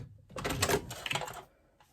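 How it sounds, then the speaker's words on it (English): A sewing machine stitching a bag strap starts after a quiet beginning, giving a close, steady mechanical rattle for just over a second before stopping. "So one line of stitching."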